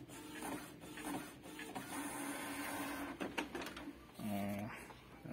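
A Canon MP198 inkjet printer prints a page, its carriage whirring and clicking in uneven mechanical bursts with a brief rising motor tone near the end, heard close and moderately quiet.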